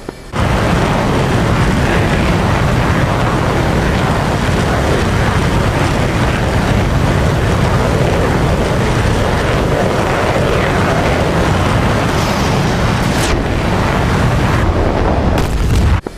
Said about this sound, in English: Mirage flight taking off runway 31 left